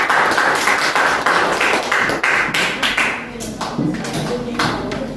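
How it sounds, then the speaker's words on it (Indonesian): Schoolchildren in a classroom clap together for a student group, a dense, uneven patter of hands that stays fairly loud throughout and thins slightly toward the end. "Beri tepuk tangan untuk kelompok 4."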